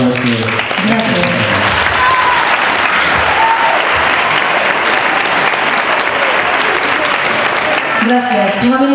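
An audience at a jury selection event breaks into loud, sustained applause lasting several seconds, with someone speaking briefly before and after the clapping.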